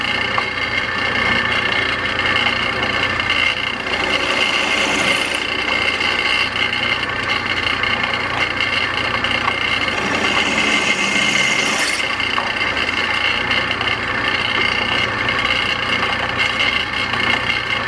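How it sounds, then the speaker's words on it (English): A power drill in a steam-powered machine shop runs steadily at its slowest speed, with a continuous whirring hum throughout and slight variations in tone. "I slowed the drill down to its slowest speed."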